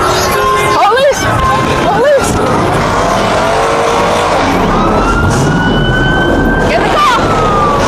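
A police car siren wails with sweeping, rising and falling tones during a car meet, loud against steady engine and crowd noise, with people talking in the background.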